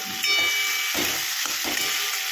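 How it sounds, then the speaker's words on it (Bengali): Chopped vegetables frying in a pan for a betho shak dish: steady close sizzling hiss, broken by about three scraping spatula stirs. "এবার ঢাকাটা তুলে আর একবার সবজিটা নেড়ে দেবো।"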